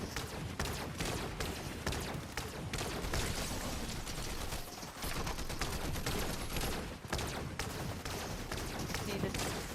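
Continuous close gunfire while shooting enemies in Fortnite, with rapid loud shots and sustained bursts throughout, and a voice talking over the action.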